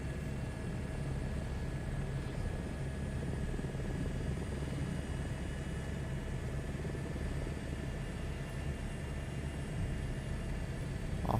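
A helicopter in a flight video game, its engine a steady, unbroken rotor drone that holds at an even level throughout, with no voices.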